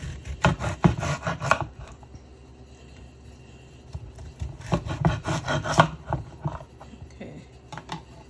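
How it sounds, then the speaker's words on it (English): Knife slicing through fruit to cut it in half on a board, two bursts of close rasping, crunchy cuts separated by a quiet pause, with no talk. "We're gonna slice it in half like that."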